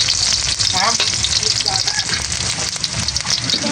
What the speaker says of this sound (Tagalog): nag-isa ko na po yung bawang at saka sibuyas